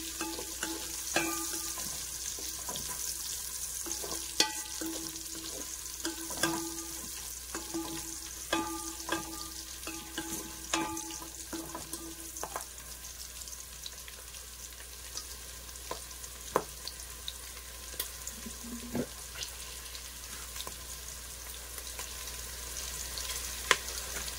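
Onions frying in a pan for vegetable biryani, a soft steady sizzle under repeated light clinks and scrapes of a spoon against the pan, fairly quiet and close, no voices.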